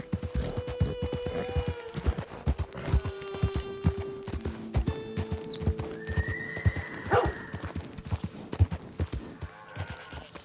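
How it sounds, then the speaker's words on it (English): A horse in the Red Dead Redemption 2 game clip-clops along in a rapid galloping rhythm, with whinnies and neighs, a jingle of tack and a sharp squeal partway through. "I got a really noisy horse"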